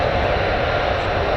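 Steady, loud jet engine roar from a US Air Force F-15 fighter moving on the airfield at RAF Lakenheath, a continuous broadband rush with no breaks.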